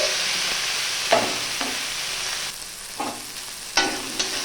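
Chopped tomato, coriander leaves and onion fry in a pan with turmeric and salt, a continuous loud sizzle broken by several bursts of spatula scraping and stirring.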